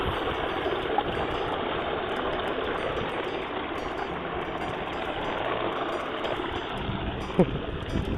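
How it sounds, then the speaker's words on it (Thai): Water pours steadily down a small waterfall in a rice field area, a continuous broad rushing wash heard close and fairly loud, with a faint voice briefly underneath. "น้ำตกครับนี่ครับ น้ำตกบ้านเขา"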